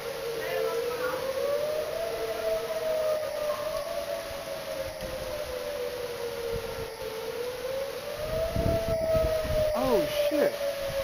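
A real tornado warning siren wails steadily, its rising and falling tone sweeping slowly across the whole stretch at constant loudness, with faint voices and a brief squeal near the end.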